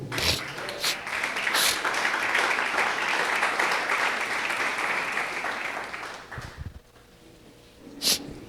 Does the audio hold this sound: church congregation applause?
yes